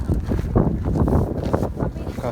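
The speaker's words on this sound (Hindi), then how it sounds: "काफ़ी अच्छी हवा चल रही है।" Strong wind blowing across an open hillside viewpoint in Mussoorie, a rough continuous buffeting roar close on the microphone with gusty surges, and a voice faintly underneath.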